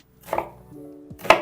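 A knife cuts turkey kabob ingredients into thirds on a board, two distinct chops about a second apart with a brief low scrape between them, close and clear.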